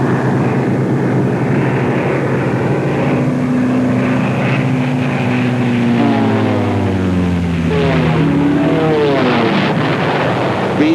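WWII P-38 Lightning fighters roar in, a loud droning propeller engine note that rises and shifts in pitch as the planes sweep past, with several engines overlapping near the end.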